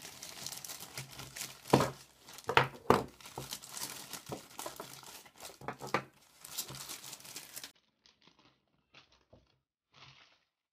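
Plastic packaging of electronic components, including small speakers, being torn open and crinkled by hand, with sharp crackling bursts up close for several seconds, then a quieter stretch with a few faint rustles.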